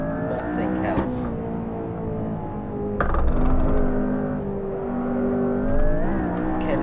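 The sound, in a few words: supercar engine accelerating in Assetto Corsa video game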